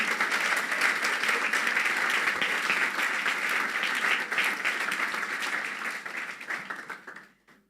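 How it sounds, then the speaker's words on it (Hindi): A church congregation at an Apostolic church sermon breaks into sustained, dense applause that holds steady for about seven seconds before trailing off at the end. "तालियां बजा दे अपने लिए।"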